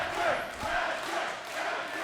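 A wrestling crowd roars in a broad, fairly distant wash of cheering and chanting that swells and dips across the arena.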